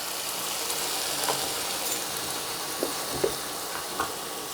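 Purple cauliflower curry sizzling in a pan with turmeric and salt, a steady hissing fry broken by a few soft taps and knocks.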